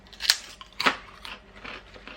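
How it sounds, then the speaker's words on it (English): Sweet sriracha lentil chips bitten and crunched up close: two sharp crisp snaps followed by softer chewing crackles, with no talking. "they're going to be really crunchy"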